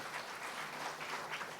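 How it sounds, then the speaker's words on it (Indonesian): Church congregation applauding, a dense, even wash of many hands clapping at moderate distance and fairly faint, with no talk over it. "Berikan tepuk tangan."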